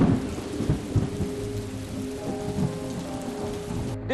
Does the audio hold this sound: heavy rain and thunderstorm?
yes